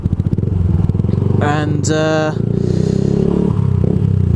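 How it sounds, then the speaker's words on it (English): A motorcycle fitted with an aftermarket exhaust rumbles up close with a deep, pulsing idle and a couple of quick throttle blips in the middle, while a voice briefly speaks over it. "yes, I have a different exhaust on this bike"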